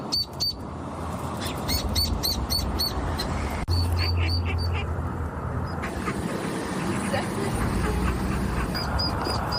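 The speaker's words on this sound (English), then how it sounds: "The little ducks fell inside here," Ducklings trapped in a street drain peep in rapid high chirps while the mother duck quacks nearby, the calls repeating in bursts over continuous outdoor noise as people talk.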